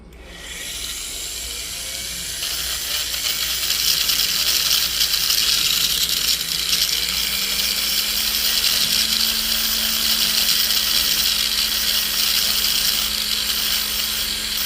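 A rotary tool with a grinding stone works the shank of a white gold ring, a continuous high whine with a steady hissing grind, close and loud, pitch shifting slightly as pressure changes.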